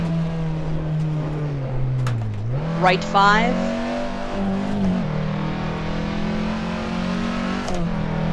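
Rally car engine in an Assetto Corsa VR rally simulator, steady close drone rising and falling as the revs climb sharply mid-run, with a co-driver calling pace notes over it.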